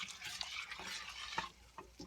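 Shrimp being stirred into grits in a pot on the stove, with scraping and soft bubbling sizzle and a few sharp clicks of the spoon against the pot, close and fairly quiet.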